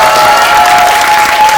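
A theater audience at a film screening Q&A applauds an actor, with dense, sustained clapping from a large crowd filling the room at a steady, loud level throughout.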